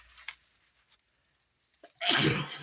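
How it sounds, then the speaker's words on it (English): A quiet pause broken by a small inhale, then a single loud, close sneeze bursting out near the end. "I have a sneeze."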